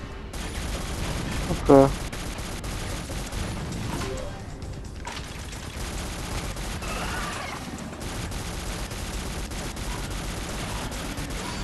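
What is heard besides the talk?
weapon firing in video game Shadowgun Legends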